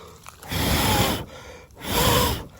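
A man breathes heavily after sweaty exertion, taking two deep, loud, rasping breaths close to the listener, separated by a short pause, with no talking.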